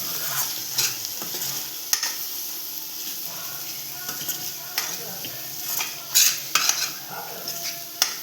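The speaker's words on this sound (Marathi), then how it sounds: "आता आपण त्याला एकत्र असं करून घेऊया मिक्स." Sev bhaji being stirred in a pan as spices are mixed in, with a spoon scraping and clinking against the pan over a soft sizzle and irregular knocks throughout.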